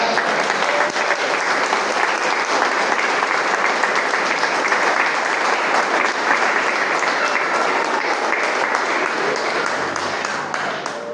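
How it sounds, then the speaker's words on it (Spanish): A church congregation applauds in a sustained, dense wash of clapping that stays loud and steady throughout, easing off only slightly at the very end. "¿Qué tal si le da un aplauso al Señor por esa palabra?"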